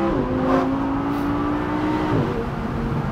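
An Audi R8 V10 engine pulls hard under acceleration, a loud, steady tonal wail that holds and climbs with a brief dip near the end, heard from close by with no voices.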